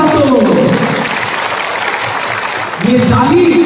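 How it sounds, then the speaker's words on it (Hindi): An audience claps loudly and continuously at a community gathering while a voice speaks over the applause. "तो जोर से ताली दो"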